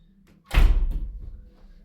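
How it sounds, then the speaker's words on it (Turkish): An indoor door is pushed shut, landing as a single solid thud with a short rattle after it, close and fairly loud against a quiet room. "Kapıyı kapatıyorum ben."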